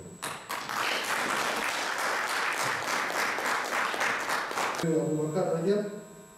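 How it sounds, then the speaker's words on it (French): An audience at a Toubou cultural association gathering applauds steadily and fairly loudly for nearly five seconds, then the clapping stops abruptly and a voice follows. "ceux qui sont responsables de ces organisations méritent encore une fois nos encouragements et nos applaudissements"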